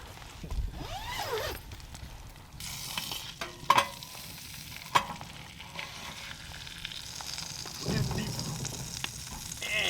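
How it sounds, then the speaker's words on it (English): Beanie weenies fry in a pan inside a winter hot tent on an island in northern Wisconsin, a steady soft sizzle with occasional stirring scrapes and clanks near at hand. "This is how you cook a beanie weenie."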